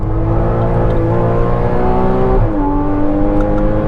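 A Porsche Cayman GTS (981) on a race track, engine heard from close by as it pulls under steady power, the pitch climbing, then dropping briefly at a gear change and rising again, loud and continuous, with no talking.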